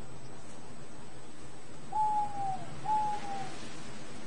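Two clear tawny owl hoots sound one after another at moderate distance, each a short tonal call, over a quiet woodland hiss.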